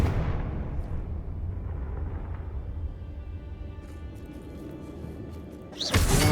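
A Confringo fire spell from Hogwarts Legacy bursts in a sustained, rumbling blast. A second loud, sharp explosion erupts right at the end.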